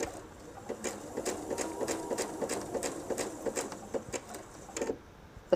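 Sewing machine stitching fabric for a jelly roll purse, a close, brisk run of rhythmic needle clatter with slight speed changes, ending in a short pause.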